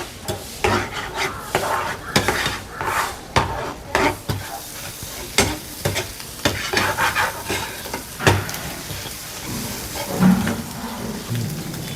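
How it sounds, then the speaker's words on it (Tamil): Eggs are scrambled with salt, pepper and cumin in a pan, with bursts of loud scraping and stirring strokes in an irregular rhythm over a steady frying sizzle, close up. "அந்த முட்டையை நல்லா கிண்டி விடுவோம்"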